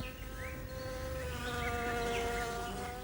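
Wasps buzzing in a wildlife setting, several insects droning close by with wavering pitch as they move, steady and fairly loud with no talking.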